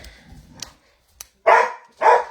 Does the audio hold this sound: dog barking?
yes